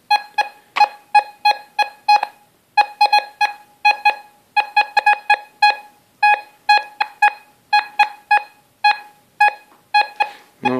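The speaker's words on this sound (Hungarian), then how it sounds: "maximális érzékenységem van a gép, úgyhogy azért csipog szegény össze-vissza" An MD1023g25 metal detector set to maximum sensitivity during a ground test chirps nonstop in erratic bursts of short, sharp, tonal beeps, loud and close, with irregular clusters and brief pauses.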